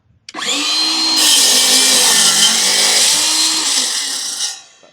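Miter saw slicing through double-stacked pine 2x4s, a loud close whine that spins up, holds steady with a rising bite as the blade cuts, then winds down.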